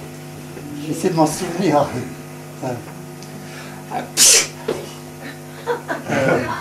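A sharp sneeze bursts out once amid a lively French stage show, loud and close, with people talking and chuckling around it.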